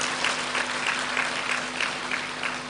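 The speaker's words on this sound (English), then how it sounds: "Ladies and gentlemen, I thought you gave a round of applause." Audience at a programme onboarding and matriculation ceremony gives a steady round of applause, many hands clapping at an even, moderate level with a faint electrical hum underneath.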